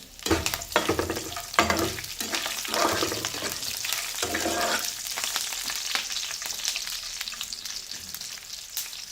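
Green chillies and peanuts crackle and sizzle in hot oil in a pan for lemon rice, with steady frying hiss and several sharp bursts of spatula scraping and stirring, close and fairly loud throughout.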